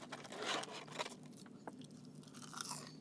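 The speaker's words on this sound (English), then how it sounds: "Don't you love a good Chick-fil-A waffle fry? Fresh up out the fryer." Crispy Chick-fil-A waffle fries, fresh from the fryer, crunch between the teeth in several close, loud bites, with chewing in between, and there is no talking.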